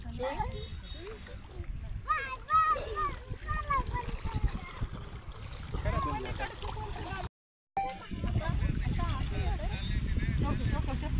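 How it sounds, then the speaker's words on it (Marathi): Children splash water at the Khadakwasla dam backwater, with repeated splashes and watery sloshing mixed with children's and adults' voices throughout, briefly cutting out midway before the splashing and chatter resume. "पाणी उडवा"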